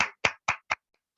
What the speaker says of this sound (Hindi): मैं चाहूंगा इस सिक्योरिटी के लिए एक जोरदार तालियां